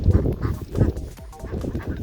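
Ducks on a small farm, including Pekin, Buff, Welsh Harlequin and Cayuga breeds, give a run of close, loud quacks and honks in uneven bursts with no talking.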